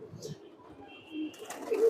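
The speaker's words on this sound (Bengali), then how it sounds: "খুবই সুন্দর কবুতর গুলান মাদি কবুতর" Silver-coloured female pigeons coo softly in a loft, a low murmur that runs under nearby talking and then swells louder toward the end.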